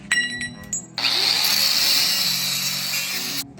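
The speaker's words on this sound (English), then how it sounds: "You can't get your cutoff wheel in to cut them flush with this in place." A cutoff wheel grinds through a steel tube on a Ram TRX rear bumper, a loud, steady high-pitched whine lasting about two and a half seconds, after a few brief tool bursts at the start, then cutting off abruptly.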